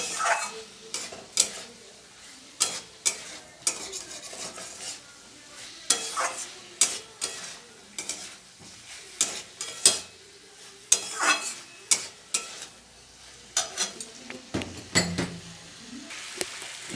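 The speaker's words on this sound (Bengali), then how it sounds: "এবার মশলার সাথে আলু কুমড়োগুলো ভালো করে কষিয়ে নিয়ে তারপরে আমি জল দিয়ে দেবো" Potato and pumpkin stir-fry with spices and asafoetida in a pan, with repeated scraping and clinking of a spatula against the metal over a soft sizzle. The strokes come in irregular bursts close by, and nobody talks.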